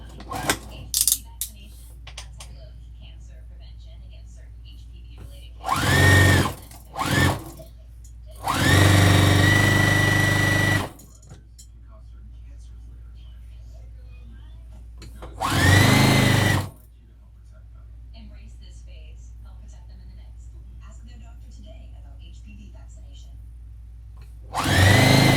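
A sewing machine stitches a tote bag in several separate bursts, some short, one running about two seconds, each a loud mechanical whir that stops abruptly, with quiet handling noises between runs.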